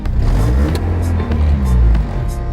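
A twin-turbo Honda Civic engine rumbles loudly and steadily up close, rising in a couple of revving swells over its idle, with a faint voice briefly under it.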